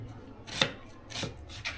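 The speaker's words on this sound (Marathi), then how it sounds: "कांद्या कापायचं." A knife chops through an onion on a board, giving three crisp, close thuds spaced roughly half a second apart against a quiet background.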